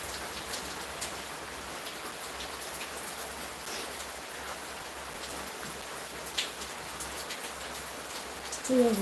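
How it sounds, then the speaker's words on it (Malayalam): Steady rain patters throughout, a soft continuous hiss of drops with a few louder spatters near the end. "അവിടെയൊക്കെ മഴയാണോ"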